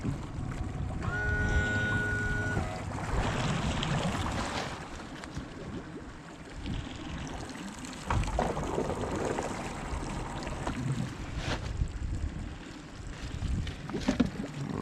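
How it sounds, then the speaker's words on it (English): A small boat's motor hums steadily as the boat turns while mud crabbing, water splashing and wind buffeting the microphone, with a brief whining tone early on and no voices. "turn the boat around a little bit."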